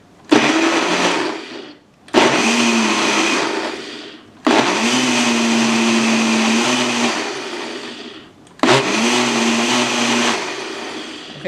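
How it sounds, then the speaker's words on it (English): A countertop blender whirs through poblano peppers and water in four loud bursts separated by brief pauses, each run a steady motor whine. "I'm going to put it in my blender and we're going to start blending"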